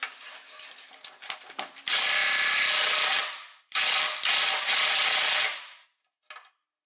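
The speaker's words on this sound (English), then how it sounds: "Let's see if we can get rid of these crazy rusty bolts." Tool working rusty bolts on a Subaru WRX STI rear axle knuckle: a few rattling clicks, then two long loud bursts of ratcheting power-tool spin, a short pause between them, and a brief final blip.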